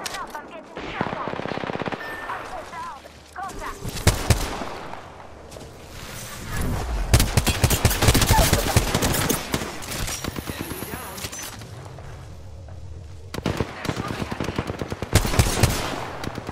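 Rapid automatic gunfire and single shots in Apex Legends, loud bursts with whooshes and impacts, recurring in clusters over a busy game mix with voice chatter.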